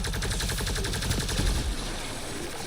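Rapid bursts of gunfire from a Mass Effect: Andromeda firefight ring out loud and continuous, dense overlapping shots with no pause and no talking.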